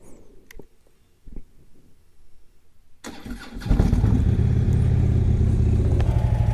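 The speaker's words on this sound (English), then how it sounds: "I am actually going to go sit and start the bike so that we can get it up to operating" A motorcycle engine cranks over with a few faint clicks and whirs, then catches and fires up into a loud, steady, throbbing idle as it warms up, close by and without talk.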